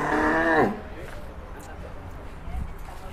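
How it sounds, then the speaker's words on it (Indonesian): A cow at Berkah Wafa Farm gives one loud, close, low moo at the start, followed by quieter farmyard background with faint thuds. "3 sapi monster dari Berkah Wafa Farm"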